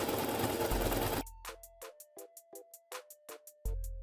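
A sewing machine stitches a finishing seam in a series of short, evenly spaced bursts, each a quick mechanical whir with a faint tone under it, close by and alone.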